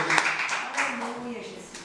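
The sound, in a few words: congregation clapping in church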